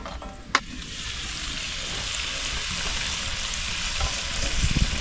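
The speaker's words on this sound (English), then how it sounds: "So you want to brown your chorizo" Chorizo browning in oil in a Weber casserole dish, a steady close sizzle and spit with a single sharp clink early on and a few scraping stirs near the end, no voices.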